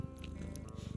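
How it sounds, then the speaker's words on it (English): A cat purring close up, a low rapid rumbling pulse throughout with a few faint clicks and rustles over it. "She's purring."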